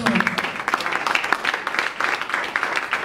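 Congregation clapping in acclaim of the Lord during a bilingual French-Spanish church service, a short burst of rhythmic applause with voices mixed in.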